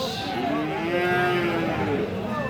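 A cow moos once in a long, drawn-out call at a cattle market selling Friesian and crossbred bull calves, moderately loud and fairly close, with faint crowd murmur underneath.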